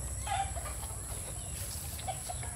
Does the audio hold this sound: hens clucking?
yes